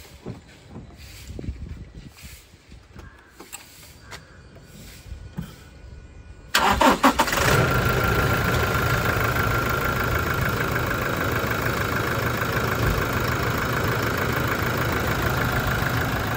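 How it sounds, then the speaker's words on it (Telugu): After a few seconds of quiet shuffling, a Toyota Innova Crysta 2.8 automatic's engine cranks on a single turn and catches, then settles into a steady, loud idle. "సింగిల్ సెల్ఫ్లో అయితే వెహికల్ స్టార్ట్ అవుతుంది"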